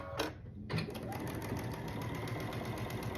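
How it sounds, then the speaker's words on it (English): A home sewing machine runs in a steady, fast whirring stitch while piecing a quilt block, starting after a brief pause and then continuing close and unbroken. "now I can turn this one on top of this one and sew down this side"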